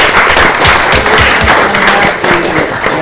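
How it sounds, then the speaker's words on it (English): An audience at a Morgantown city council meeting applauds contest winners, a dense burst of loud, close clapping that carries on steadily without a break. "if we give a round of applause to our contest winners"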